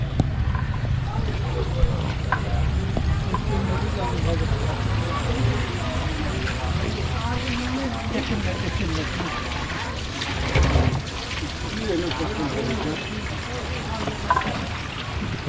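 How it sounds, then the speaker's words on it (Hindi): Groundwater forced up under pressure from about 800 feet below rushes in a steady, heavy roar throughout, with a crowd of people talking around it in Janakpur. "लगभग 800 फीट नीचे से पानी अपने आप ऊपर आता है। और वो भी देखिएगा कितने बड़े प्रेशर में आ रहा है।"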